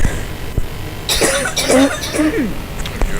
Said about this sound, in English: Which means I'm coughing